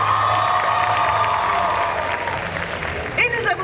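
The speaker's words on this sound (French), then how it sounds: "Je vous demande de l'applaudir encore une fois" At a cosplay jury presentation, a convention audience claps and cheers for a jury member. The applause is loud and sustained at first, then fades as voices rise over it near the end.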